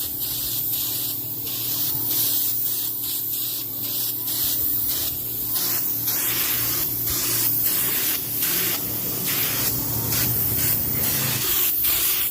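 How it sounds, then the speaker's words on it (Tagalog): An air hopper spray gun sprays a mix of Flexibond and cement mortar onto a speaker box, producing a loud, continuous hiss broken by short rhythmic pulses and gaps, close up and with no talking. "Gamit natin yung air hopper spray gun."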